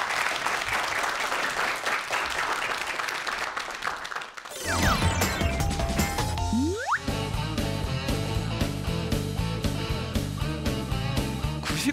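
A studio audience at a Korean talk show on maths education breaks into loud, dense applause, which then gives way to bright musical jingle tones, swooping synth effects and a rhythmic beat.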